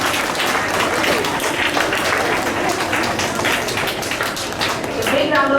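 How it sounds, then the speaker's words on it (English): Audience applause at a school assembly for a class French Day, steady close clapping filling the room for several seconds, with faint voices mixed in near the end. "A big round of applause for all the achievers."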